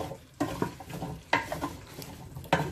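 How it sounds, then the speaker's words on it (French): A spoon stirs couscous vegetables in a pot, giving three or four distinct scraping strokes with soft sizzling between them, close and fairly quiet. "Mélanger un petit peu."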